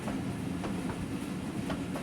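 The Kapotaksha Express rumbles across a bridge toward Poradah Junction, a steady loud roar of wagons with rhythmic clickety-clack wheel beats repeating through the clip, no voices.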